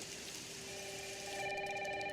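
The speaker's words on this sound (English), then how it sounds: "And then this phone call happens." A telephone ringing in the Resident Evil 9 game trailer, a sustained electronic tone that holds steady and swells slightly louder partway through, heard alone without talk.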